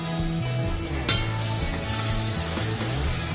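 Onion and ground masala fry in a pan for baingan bharta, a continuous sizzle with a low hum beneath and one sharp utensil clink partway through.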